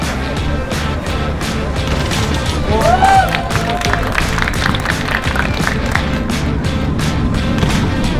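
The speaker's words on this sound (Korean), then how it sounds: "팬분들이 박수로 격려를 해주시고 계십니다" Fans applaud at a basketball shooting event, a steady, loud wash of clapping and crowd noise that continues throughout, with a brief tonal squeal near the middle.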